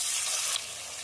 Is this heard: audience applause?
no